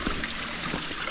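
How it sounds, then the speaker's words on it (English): A waterfall on a hiking trail in South East Queensland gives a steady, broad rushing hiss of falling water that runs the whole way through, with no voices. "Waterfall there."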